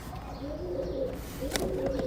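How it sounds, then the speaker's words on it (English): Pigeons cooing close by in a farm or outdoor setting, a steady run of soft low coos across the whole moment with a brief sharp noise near the end, no voices. "I'm legit being attacked by pigeons."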